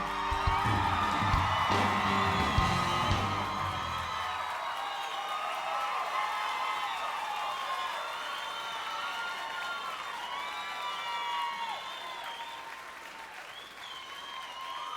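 A country concert crowd at Billy Bob's bursts into loud applause and cheering as the music ends, with whoops over steady clapping that gradually thins out.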